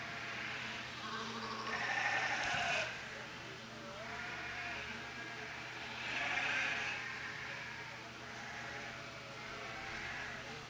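Dorper yearling ewes bleat at a livestock show, two louder drawn-out calls rising over a steady murmur of crowd and background noise.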